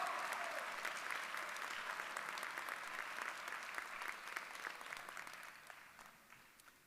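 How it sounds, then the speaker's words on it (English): Faint, distant applause from an audience at a high school graduation ceremony, honouring a standing graduate, continuous crackling claps that slowly taper off toward the end. "Antonio, please stand so we can applaud you for your inspiration and your growth mindset"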